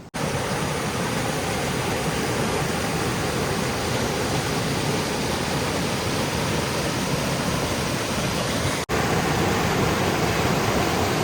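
Waterfall and river water rush in a steady, dense roar that fills the whole stretch, with only a momentary break near the end and no voices.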